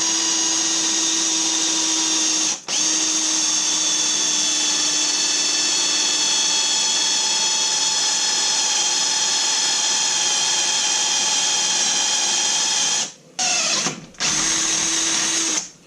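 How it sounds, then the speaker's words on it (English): A power drill whines steadily at high pitch, grinding continuously through solid metal on a 1960 Chevy, with brief cutoffs near the start and near the end. "Now we got to drill through that."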